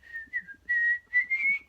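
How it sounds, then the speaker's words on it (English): Someone whistles a brief, bright melody, Stars and Stripes Forever, in a few clear, close sustained notes with short breaks between phrases. "do you want to whistle us out like Stars and Stripes Forever?"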